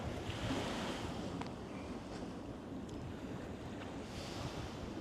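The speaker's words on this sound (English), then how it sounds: "We can just listen to the waves coming in." Ocean surf washes in steadily, a broad rushing hiss of waves breaking nearby, with wind buffeting the microphone throughout.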